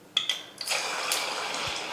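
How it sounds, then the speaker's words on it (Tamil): Water falling from a wet hand onto a work surface while shaping dough for vada in a home kitchen: a couple of sharp drips, then a steady soft splashing trickle, close and fairly loud. "இப்போ வந்து தண்ணி என் கையில் இருந்து விழுந்துச்சு"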